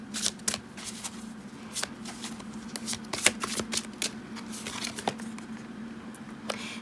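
Tarot cards shuffled by hand before a reading give off a steady run of crisp riffling and flicking snaps, close and fairly quiet over a low background hum.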